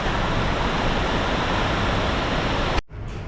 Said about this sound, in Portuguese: E a água tá correndo aqui no rio.